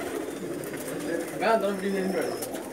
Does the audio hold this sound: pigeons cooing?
yes